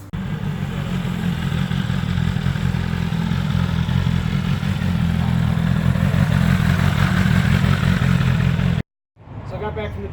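A 2020 BMW S1000RR sportbike runs steadily, a loud continuous engine drone with low rumble, before cutting off abruptly near the end and returning faintly.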